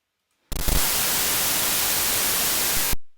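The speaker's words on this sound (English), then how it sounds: "And so we hear the white noise." Loud, flat white noise from a JUCE audio plugin switches on abruptly, holds steady for about two and a half seconds, then cuts off into silence.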